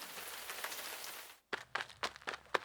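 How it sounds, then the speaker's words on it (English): Heavy rain makes a steady dense hiss for about a second and a half. It cuts to brief silence and then gives way to several sharp separate knocks or steps. "The sound of heavy rain is za za, za za."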